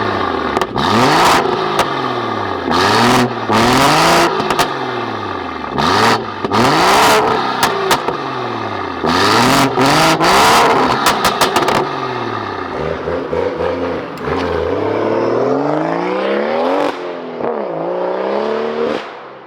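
A Stage 3 tuned manual BMW M140i cranks into life and is revved hard again and again, loud, close engine sweeps rising and falling in quick bursts, then settling into a steadier drone with some rattly clatter and no talking.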